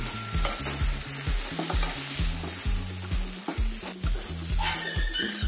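Crushed dried Maldivian tuna stirred and frying in a pan, a steady close sizzle broken by repeated scraping strokes of the spoon, no voices.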